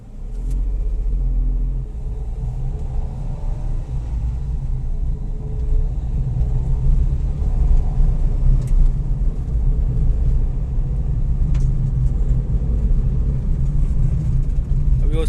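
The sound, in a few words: car engine rumble while driving on road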